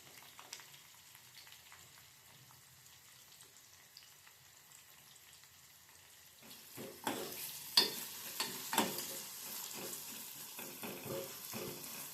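Sliced onions hit hot oil and start to sizzle for a short Shavige Uppittu. A spoon scrapes and stirs them around the pan in clustered bursts of close crackle after a quiet opening, and no voices are present.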